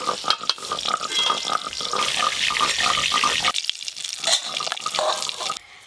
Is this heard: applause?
no